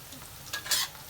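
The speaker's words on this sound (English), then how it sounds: "So now we fry the onions until it's a bit golden brown." Onions frying in oil in a pan for a Hainanese beef dish make a faint, close sizzle, with a soft stirring scrape and a brief brighter crackle.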